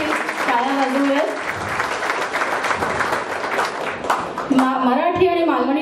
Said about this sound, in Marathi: एकदा आपण नियोजन समितीसाठी टाळ्या वाजवूयात